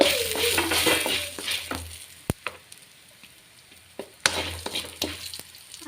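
Food fries and sizzles in a pan in a home kitchen, with a hiss that swells and fades as it is stirred and sharp clicks of a utensil against the pan.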